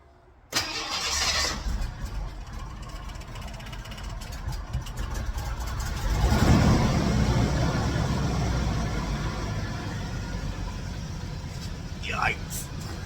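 A 1989 Ford Thunderbird engine cranks and catches, then runs at a steady idle that gets louder midway through, with a short whistle-like sweep near the end.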